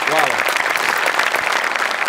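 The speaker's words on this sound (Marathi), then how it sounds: "एकदा जोरदार टाळ्या त्यांच्यासाठी झाल्या पाहिजे" A studio audience at a Marathi comedy show breaks into loud, dense applause, a continuous roar of clapping that fills the whole moment, with a voice briefly audible at the start.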